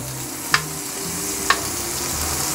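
Vegan butter sizzling in a pan after browning a whole grain Christmas loaf, a steady sizzle with two sharp utensil clinks about a second apart and low hum underneath.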